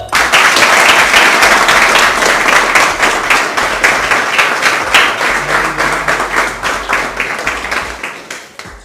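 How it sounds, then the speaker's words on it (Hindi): Loud, close clapping from a training-seminar audience at a Modicare business development session, starting as a thick, continuous burst and then thinning into quicker, separate rhythmic pulses that fade toward the end. "सभी जोर से तालियां बजाएंगे"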